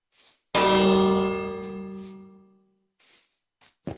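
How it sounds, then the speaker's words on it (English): One loud bell strike rings out in a video game and decays slowly over about two seconds, followed by faint scattered sounds. "I just rang the bell."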